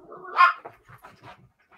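A dog gives a short bark followed by soft whimpering and whining, faint and indoors, in a quiet room with nothing else prominent.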